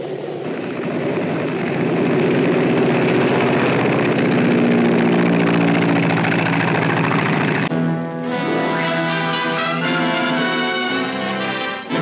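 Engine of an L-4 plane, a steady loud droning hum throughout, with an abrupt change partway as the 1945 newsreel footage cuts, no speech heard.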